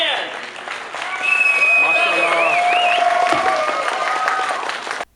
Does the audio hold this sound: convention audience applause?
yes